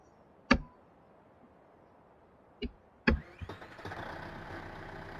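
A tractor engine in the farming video game Farming Simulator 15 cranks with a few sharp bursts, then catches and settles into a steady low rumble, fairly close and alone.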